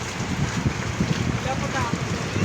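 Heavy rain pours down in a dense, constant roar and hiss close by, with no break across the short stretch.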